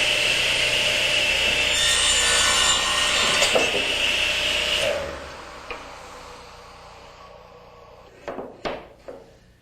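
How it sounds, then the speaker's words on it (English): A radial arm saw makes a test cut through plywood: a loud, close, sustained blade whine through the wood, then the motor spins down, followed by a few sharp knocks as the pieces are handled. "Here's the one-cut test for the saw setup, using a piece of plywood with parallel edges."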